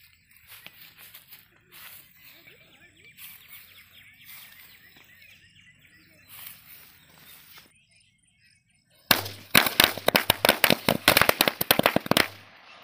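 Faint outdoor ambience with birds, then a rapid string of loud sharp bangs from a string of 56 Valangaiman country firecrackers crackling in quick succession for several seconds.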